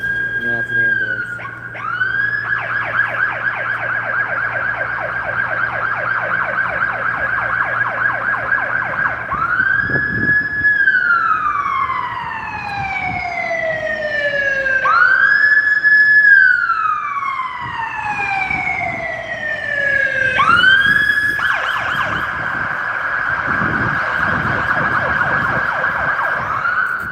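Ambulance siren wailing past at night in a protest setting, loud rising-and-falling sweeps repeating every few seconds with a yelp section, joined by other sirens, while people talk nearby.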